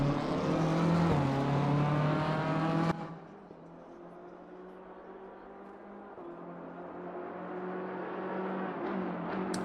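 BMW M4 GT3 race car in Assetto Corsa Competizione, engine howling loudly at high revs, then cutting abruptly to a lower drone that slowly builds again as the car accelerates.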